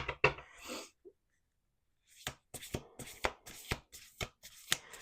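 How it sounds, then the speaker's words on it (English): A brief shuffle, a pause of near silence, then a deck of oracle cards is riffled and bridged repeatedly in quick, crisp bursts close by. "We're going to do one more shuffle."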